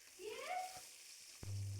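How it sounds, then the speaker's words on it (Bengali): Chopped onions frying in hot oil with whole garam masala for a prawn malai curry, a faint, quiet sizzle with a brief stir or clink near the end. "দেওয়ার পর পেঁয়াজ কুচি দিয়ে দিলাম, দিয়ে ভালো করে পেঁয়াজগুলোকে ভাজা ভাজা করে নেব"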